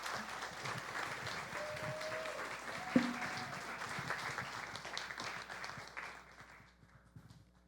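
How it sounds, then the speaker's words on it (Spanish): An audience at a book launch applauds steadily for several seconds, a dense wash of clapping that tapers off toward the end. "el aplauso más grande del mundo"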